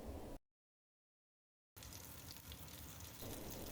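Zucchini batter spooned into hot oil in a pan fries with a steady broadband sizzle after a brief silent gap, holding loud and even to the end.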